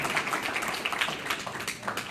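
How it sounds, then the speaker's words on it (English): A public forum audience gives a round of applause, a fairly faint but steady patter of many hands clapping at moderate distance, continuing evenly for a couple of seconds. "a round of applause"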